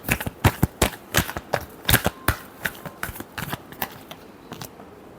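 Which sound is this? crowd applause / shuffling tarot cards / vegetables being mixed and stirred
shuffling tarot cards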